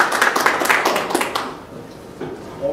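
An audience breaks into brief applause, a short burst of clapping that quickly fades out within a couple of seconds.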